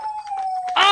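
A dog howls up close in one long, thin, steady note that swells into a louder, rising, strained cry at the end.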